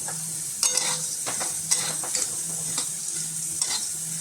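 Seeds dry-roasting in a pan while being stirred, a close scraping rattle of spoon strokes over a soft sizzle, with repeated stirring sweeps.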